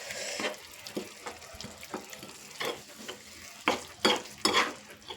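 Hot water poured into thick sizzling paneer gravy in a pan, with bursts of hissing splashes and stirring scrapes coming in irregular surges, close and fairly loud.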